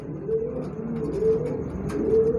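A female pigeon cooing up close: soft, low, rolling coos repeated in a gentle rhythm over faint background noise.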